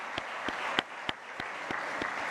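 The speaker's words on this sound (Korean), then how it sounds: "끝까지 우리 박수로 축복해 주시기를 바랍니다." A church congregation applauds during a Sunday morning service, a steady wash of clapping with a few sharper, louder claps standing out at regular intervals.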